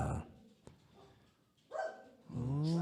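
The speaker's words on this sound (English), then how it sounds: "These poor dogs just bark at everything." Dogs barking at someone dropping off mail, a few loud barks near the start and again toward the end with quieter stretches between, heard close by with a person talking faintly underneath.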